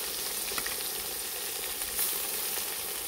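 Ground masala of onion, tomato, ginger and garlic fries in hot oil for a Maharashtrian masala vangi, giving a steady, close, dense sizzle with a few faint stirring clicks and no voices.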